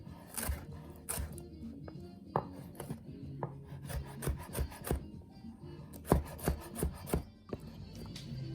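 A bell pepper is chopped very small with a knife for a spaghetti pie: a quick series of crisp, close knife taps, sometimes single and sometimes in rapid bursts, with no talking.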